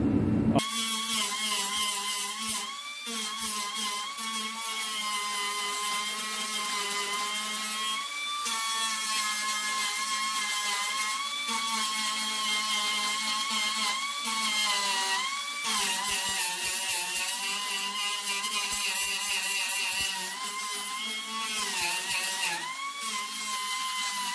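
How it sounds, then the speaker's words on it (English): Angle grinder smoothing welded sheet metal on a rusted A-body car, a loud, continuous high whine that holds nearly steady for the whole stretch, with brief dips as the tool lifts off. "I just got done grinding everything I wanted to"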